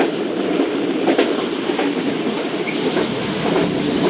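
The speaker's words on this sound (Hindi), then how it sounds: "एक अदद कोल ट्रेन भी पावर प्लांट में जा रही है एम्प्टी होने के लिए कोल वैगन्स को" A loaded coal freight train with its wagons rolls toward a power plant, a steady loud rumble with rhythmic clickety-clack of wheels over rail joints running throughout, close by.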